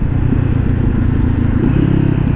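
A Honda CBR500R motorcycle pulls away in first gear under throttle, its loud, steady engine drone close by with a rough low rumble throughout.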